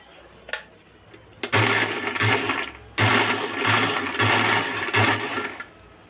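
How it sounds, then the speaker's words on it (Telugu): A mixer grinder blends fried tomatoes for urad dal chutney in loud, close, whirring bursts, run in several pulses of about a second each with short pauses between. "ఇప్పుడు మిక్సీకి పట్టుకోవాలి ఫ్రెండ్స్."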